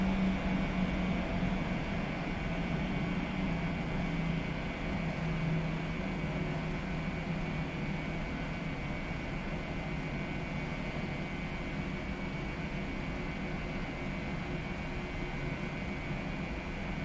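A Boeing 737-700 in the PMDG flight simulator game spools up for takeoff on runway 4 at Hobby, a steady droning engine whine with faint tonal hum, even and unbroken throughout.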